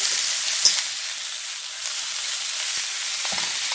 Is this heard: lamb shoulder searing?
yes